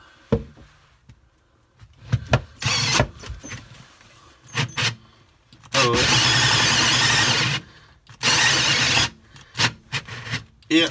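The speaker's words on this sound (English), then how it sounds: "Trying the other drill." A second power drill bites into wood in short loud bursts, whining and grinding near the listener, with pauses of quiet handling and a voice speaking between runs.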